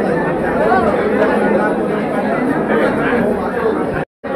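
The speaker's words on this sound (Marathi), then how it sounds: "खूप गर्दी झालेली आहे आणि भक्त भाविक मंडळ सगळे येत आहेत" A dense crowd of devotees chatters continuously at the annual Gangeshwar temple fair in Katta, a loud, close wall of overlapping voices that cuts off abruptly near the end.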